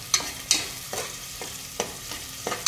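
Vegetables for a vegetable biryani being stirred in hot oil in a pan, with a spoon scraping in a steady rhythm of about six sharp strokes over a soft sizzle, close and alone.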